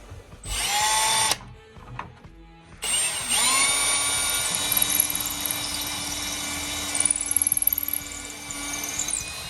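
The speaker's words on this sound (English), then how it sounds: "we put our drill into drill only mode so we can drill our pilot holes" A Milwaukee M18 Fuel cordless hammer drill in drill-only mode, drilling pilot holes in a door jamb, whines in a short burst, pauses, then runs for a longer stretch with a high, steady motor pitch, close by.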